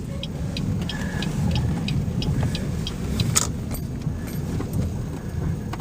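A small black car drives past on a residential street, its steady engine and tyre noise holding close and loud for several seconds, with faint clicking and jangling over it and no talk.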